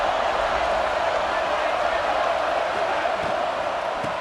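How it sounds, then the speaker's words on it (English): Crowd cheering in the College Football 26 video game during a third-down play, a loud, continuous stadium roar sustained evenly from start to finish. "Third down, and the crowd really getting into it"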